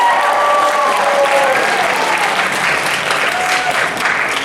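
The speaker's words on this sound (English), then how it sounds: "Round of applause for James Todd." Audience applause at a high school talent show, dense sustained clapping from a full crowd, loud and close, with a few musical tones fading underneath.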